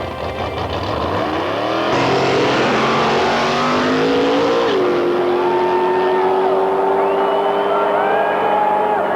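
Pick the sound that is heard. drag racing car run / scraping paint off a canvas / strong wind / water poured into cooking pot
drag racing car run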